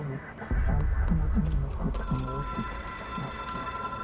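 A telephone rings in the video game Control, a steady electronic ringing tone that begins partway through over a loud, rumbling game background.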